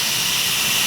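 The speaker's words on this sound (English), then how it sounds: "Cutting the exhaust seats in brand new seats." A valve seat cutter cuts the exhaust seats into brand new valve seats on a 292 engine head, giving off a loud, steady, hissing grind with no break.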